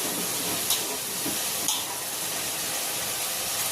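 Coriander, mint and green chillies dropped into frying onions, giving a steady close sizzle and hiss throughout, with a couple of brief louder spits near the start.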